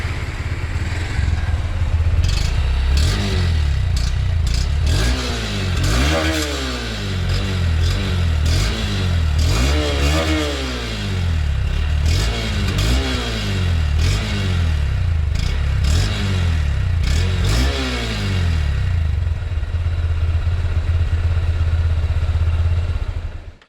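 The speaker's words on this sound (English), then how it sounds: "The exhaust note of the CB200X is very much similar to the Hornet because obviously the engine is the same." Honda CB200X motorcycle with the same engine as the Hornet, idling nearby and repeatedly revved in short bursts, each blip rising and falling in pitch over a steady throbbing exhaust note, with no talking.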